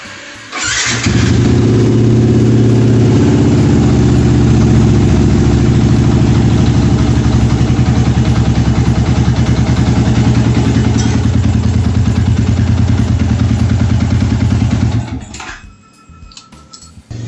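A motorcycle engine fitted with a new foam air filter in place of the paper one is started close by, then settles into a loud, steady idle for about fourteen seconds before being switched off.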